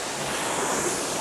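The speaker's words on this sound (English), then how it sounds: "sound of water" A steady wash of water from the Zwift rowing app, where a small rower glides along a river, plays as a continuous even hiss of flowing water with no talk.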